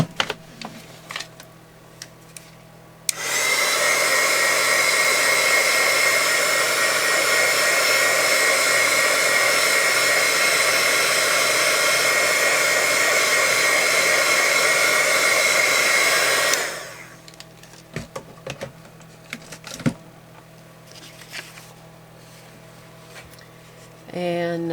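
A hair dryer blows on a junk journal page in one continuous loud whirring burst of about thirteen seconds, close up, with quiet room sounds and small taps before and after.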